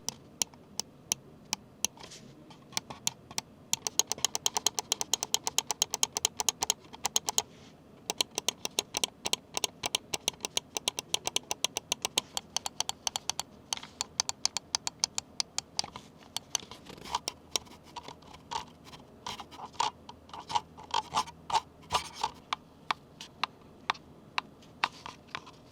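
An Attack Shark X3 wireless gaming mouse clicks in a rapid, uneven stream of sharp ticks over about twenty-five seconds, sometimes in fast bursts and sometimes spaced out, close and fairly quiet, with no talking.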